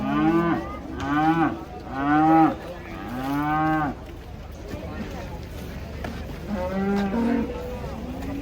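Several deep, drawn-out cow moos, loud and close, repeating with short gaps, with a murmur of people talking in the background.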